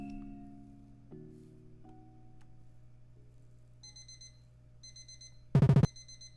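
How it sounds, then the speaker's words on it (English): An alarm clock starts beeping partway through, sending repeated short high electronic pulses in quick bursts over a low steady hum, with a single loud thump near the end. "Hendrik, are you not going to turn off the alarm?"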